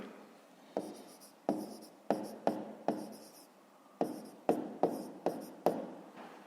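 Pen writing a fifth-grade maths subtraction solution on paper, a run of distinct close scratchy strokes that each start sharply and fade, with short gaps between them and no talk.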